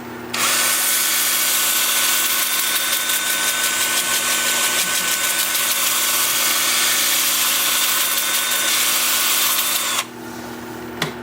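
A power drill runs steadily in reverse on a wood lathe project for about ten seconds, a loud continuous whine with a fine rapid ripple, then cuts off abruptly, leaving a quieter hum.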